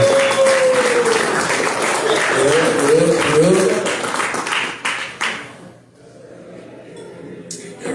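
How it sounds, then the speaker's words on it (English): Crowd applause and cheering at a comedy show fill most of the clip with a voice over it, then fade to a quieter murmur near the end. "Give it up one more time for Coach, ladies and gentlemen."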